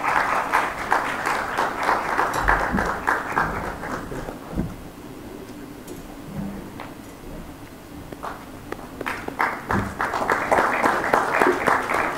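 An audience applauds after a memento presentation at a university conference event, dense steady clapping that thins out briefly in the middle before swelling loud again, with a voice speaking over it.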